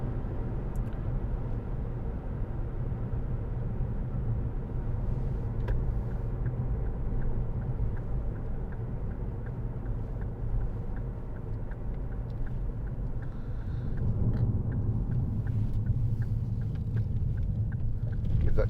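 A 2012 Ford Kuga 2.0 TDCi Titanium Powershift 4x4 driven through small bends on a country lane, a steady low engine drone and road rumble from inside the cabin that rises slightly near the end.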